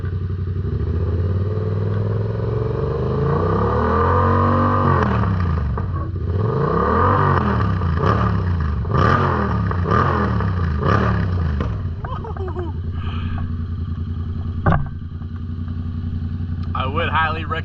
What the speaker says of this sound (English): I would highly recommend this exhaust if you're looking for that loud sound